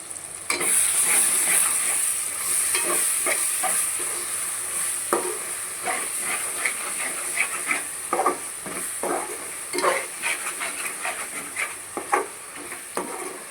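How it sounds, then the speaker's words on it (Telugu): Softened tomatoes in a pan for egg pulusu are stirred with a spatula, making frequent scraping strokes over a continuous sizzle, close and fairly loud, with a thin steady hiss above and no speech. "చూడండి, టమాటా మగ్గింది, కలుపుకుందాం."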